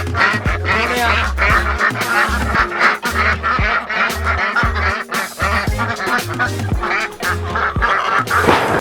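Ducks crowded inside a mobile duck tractor pen quack loudly and continuously, overlapping calls in a rapid, choppy chorus close at hand.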